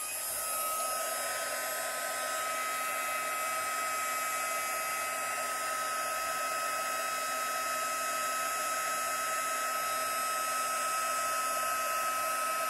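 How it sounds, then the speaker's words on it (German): A hair dryer blows continuously on freshly grouted tile work, a loud, steady whirring roar with an even tone and no pauses for the whole stretch. "föhnen."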